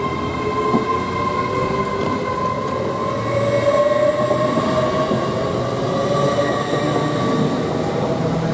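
The 12:50 London King's Cross to Hull train passes through Grantham station with a steady rolling roar, faint wheel squeal and a high whine rising and falling, close and constant throughout.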